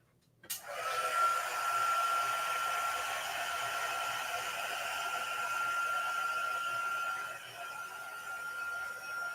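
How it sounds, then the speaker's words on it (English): Heat tool drying wet stamped ink, switching on abruptly and blowing with a steady, loud, whining fan hum for about eight seconds before easing slightly, close to the microphone and without talk. "I'm just going to dry it very quickly."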